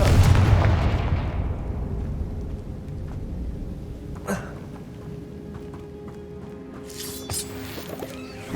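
Confringo fire spell explosions in the Hogwarts Legacy video game, with a heavy rumbling boom that decays slowly into a low game ambience, a faint thud midway and a brief crackle near the end.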